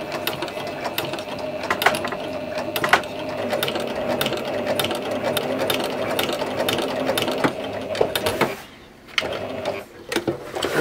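A sewing machine stitches along a neckline on fabric, running in a close, steady mechanical rattle of needle and gears, with a brief pause before it starts again.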